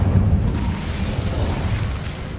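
Incendio fire spell cast in the video game Hogwarts Legacy, a loud, close burst of roaring flame that holds as a broad whooshing rumble and fades slightly, no talk.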